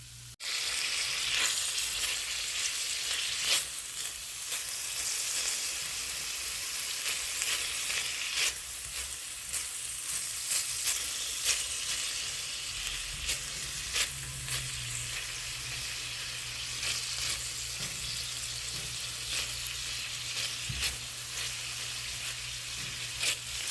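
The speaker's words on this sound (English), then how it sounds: "the Italian sausage, even though it has grease that comes out of it, it won't stick to the wok itself" Italian sausage sizzles and fries steadily in a seasoned wok with oil, a dense continuous crackle with occasional sharper pops, close and fairly loud with no talking.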